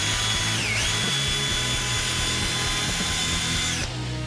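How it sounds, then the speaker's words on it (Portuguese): A Parkside PBSA 12 B1 cordless drill runs at higher speed while drilling a small hole, a loud steady whine with a brief pitch dip near the start, continuous and close, then easing off at the end. "Aumentar a velocidade para perfurar nesta luz."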